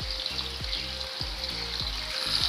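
Crushed garlic sizzles in hot oil for homemade mango pickle, a steady close frying hiss with rhythmic low stirring scrapes roughly every half second, no voices.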